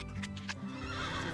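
A horse in the Pippa Funnell Ranch Rescue video game neighs in a loud, close, shrill whinny that rises and falls, with soft hoof clip-clop and steady game ambience underneath.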